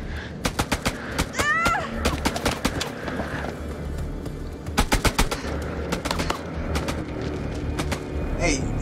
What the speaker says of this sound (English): Hey, he shot at your foot.